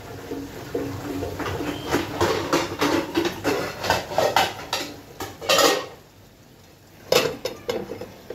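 A metal lid clatters and scrapes onto a cooking pot of katla fish belly curry, a close run of repeated knocks and rattles, a short pause, then a few more clinks.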